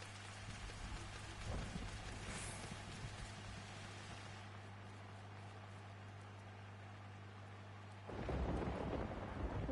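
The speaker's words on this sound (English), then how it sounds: "Don't you just think the rain is the most relaxing thing ever?" Steady rain patters and rolls of thunder rumble in the video game Final Fantasy XIV, with a low hum underneath. The downpour swells louder toward the end, and no voices are heard.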